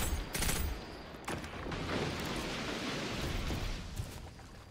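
Redrix's Claymore pulse rifle from Destiny 2 fires a few sharp opening bursts, then a long loud rushing roar of noise fills the rest, close and heavy, without talk.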